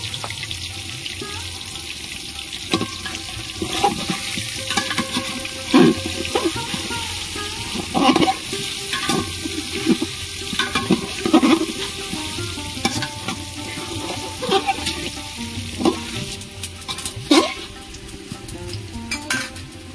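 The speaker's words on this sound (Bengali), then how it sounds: "আলু ভাজা হয়ে গেছে, তুলে নেব।" Potato pieces dusted with turmeric frying in hot oil for mutton curry, a constant close sizzle broken by repeated scraping and clinking of a spatula stirring in the pan.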